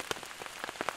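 Rain pattering on a makeshift tarp at a North Algonquin backcountry campsite, with scattered close drops tapping irregularly over a soft steady wash, no voices.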